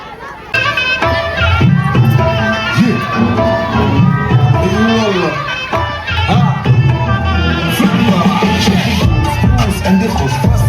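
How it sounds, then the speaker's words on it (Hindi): A school Republic Day crowd claps and cheers for the senior boys' comedy dance, a dense, steady hubbub of applause and excited voices that runs nearly the whole time. "जोरदार तालियों से इनका स्वागत कीजिए."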